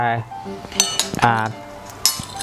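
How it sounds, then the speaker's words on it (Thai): A spoon stirs curry paste, oyster sauce and milk together in a bowl, giving several bright metallic clinks against the dish at uneven intervals while someone talks. "คนพริกแกงแล้วก็ ซอสหอยนางรมแล้วก็ นมให้เข้ากันนะครับ"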